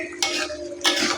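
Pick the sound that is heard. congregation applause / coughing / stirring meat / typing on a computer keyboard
stirring meat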